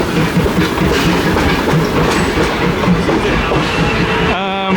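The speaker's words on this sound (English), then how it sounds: "at least we get to see the train close up" A train passes very close at a station in France, a loud continuous rumble with rapid clickety-clack of wheels over rail joints, ending abruptly near the end with a brief tonal hum.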